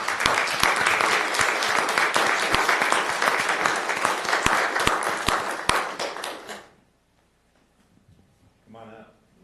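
Audience applause at a Calaveras County Board of Supervisors meeting after a Sexual Assault Awareness Month proclamation. It is loud and steady with sharp individual claps for about six seconds, then stops abruptly, and a brief voice follows in the quiet.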